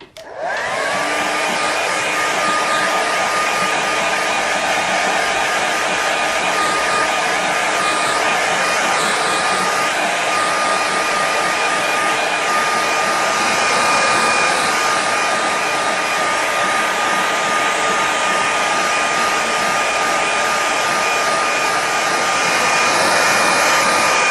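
A hair dryer blows steadily and loudly at close range to dry a freshly worked painting, a constant whooshing hum with a high whine for the whole stretch and no voices.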